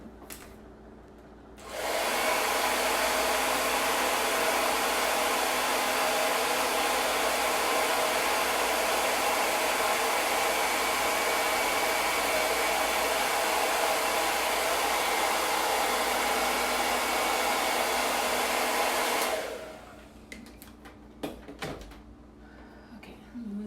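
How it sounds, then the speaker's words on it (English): A hair dryer blows loudly and steadily for about eighteen seconds, switching on abruptly and cutting off, with faint handling clatter before and after. "I'm going to dry it real quick with the hair dryer."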